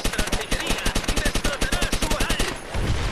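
An artillery barrage pounds away in Call of Duty: World at War as rapid gunfire rattles in a fast, even stream of loud close bursts before fading into a low rumble.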